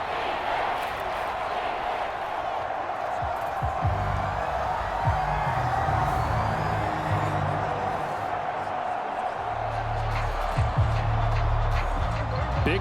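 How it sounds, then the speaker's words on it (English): Stadium crowd noise in an American football game in Madden NFL, Cowboys against Commanders, a constant loud roar of cheering and shouting that swells in places, with a commentator talking over it. "this crowd's going to get even louder"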